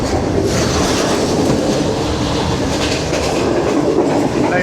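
New Shalimar Express passenger train rolling through Saiyanwala railway station on the Lahore to Multan line, a steady loud rumble of wheels on rails with a rhythmic clickety-clack throughout, heard from on board.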